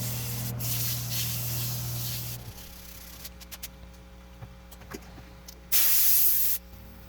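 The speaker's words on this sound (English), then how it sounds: "And of course, the ubiquitous sanding." Sanding a pine wood bowl: a close, rough rubbing hiss for the first couple of seconds, then quieter scattered scrapes and taps, and a final loud burst of hissing strokes near the end.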